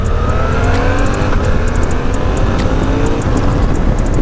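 A 2024 Suzuki V-Strom 800 DE adventure motorcycle accelerating, its engine droning loudly and steadily up close, with a rising, strained pitch and brief shifts in tone as gears change, under heavy wind rush.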